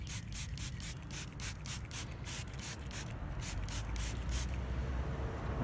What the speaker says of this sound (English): spray just one side of it and leave it for a minute